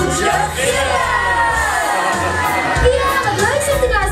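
A crowd of children screams, shouts and cheers loudly together at a Sinterklaas party in 2012, an energetic, continuous roar of young voices with some adult speech mixed in.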